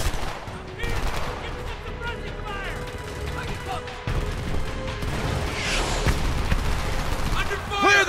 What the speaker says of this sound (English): enemy fire!